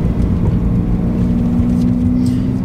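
BMW M3 E46 Touring engine running with the exhaust valves open, a loud steady low rumble close by.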